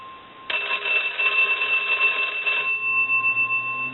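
A Kellogg rotary wood wall telephone's bell rings in one sustained burst for about two seconds, bright and metallic, then cuts off, leaving a faint lingering tone and quiet hum.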